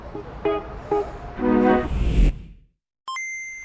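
A low loader truck pulls away carrying a car. Several honks and a rising engine roar fade into the distance, followed by a sudden electronic beep tone.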